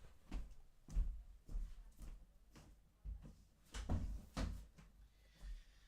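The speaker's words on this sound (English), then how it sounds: "Let's hope shutting the door might keep them quiet" A room door is handled and shut with a string of soft knocks and thuds, several fairly close bumps spread unevenly over a few seconds.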